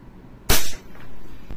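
A WE M92 Beretta airsoft pistol fires a single sharp, close shot during an FPS test, a crisp snap followed by a brief quiet tail.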